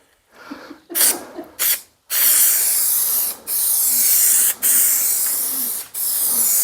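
Aerosol contact adhesive sprayed onto the headlining of a VW Caravelle/Multivan: a few short hissing bursts, then long loud close bursts with brief pauses between them.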